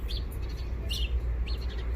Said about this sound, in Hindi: सुबह सुबह जो चिड़ियों की जो चंचहाट होती है, जो चिड़ियों की जो आवाज़ होती है